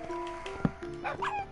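A Minecraft wolf kept as a pet dog whines and yelps in short, high-pitched cries, fairly close, with a few brief sharp bursts over a steady background tone.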